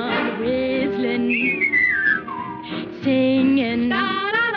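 A melodic whistled tune over a musical backing, with gliding, sustained notes that rise and fall across the phrase.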